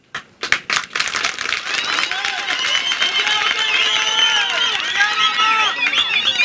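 Applause from a large outdoor crowd at a Tanzanian minister's event opening mining licences at Zira river, a dense sustained clapping roar with cheers and murmuring voices after a few sharp initial claps.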